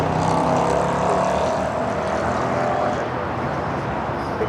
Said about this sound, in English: JetBlue flight 223 coming in from JFK. This A321 with the newer updated livery.